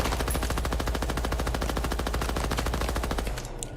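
Rapid automatic gunfire from a weapon in a multiplayer shooter game, fired in one continuous loud burst during a recoil test, stopping abruptly near the end with a short fading tail.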